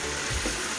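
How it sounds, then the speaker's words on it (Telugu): Steady close sizzling of chicken frying in a pan as cucumber pieces go in, a continuous crackling hiss with a slight stir-like bump partway through, no voices. "ఇలా దోసకాయ వేసిన తర్వాత బాగా మిక్స్ చేసుకొని చికెన్ని దోసకాయని మిక్స్ చేసుకొని"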